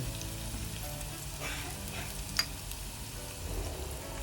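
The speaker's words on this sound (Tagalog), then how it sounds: "mainit na pan ay naglagay ako ng oil tapos inuna ko yung ginger susute natin ito na with garlic and onion" Ginger, garlic and onion sautéing in hot oil in a pan, a steady soft sizzle running evenly throughout with a few small stirring scrapes and one brief sharp tick midway.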